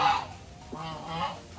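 Breeder geese for sale in the Philippines let out two honks close by, a brief call followed by a longer nasal one after a short pause.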